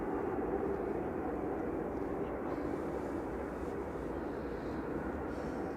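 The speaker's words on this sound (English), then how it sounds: "This is an A320neo GTTNV, just delivered in June 2024." An Airbus A320neo airliner arriving at Manchester Airport from London Heathrow, its engines a steady, fairly faint distant roar that holds evenly throughout.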